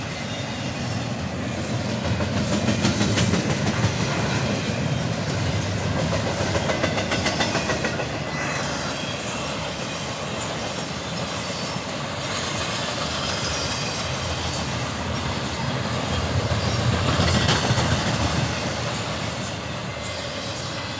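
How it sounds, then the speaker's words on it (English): A southbound intermodal freight train led by Union Pacific and Norfolk Southern locomotives rolls past close by, a steady loud rumble with clattering wheels on rail joints that swells and eases over about twenty seconds, with no talking. "Southbound intermodal train."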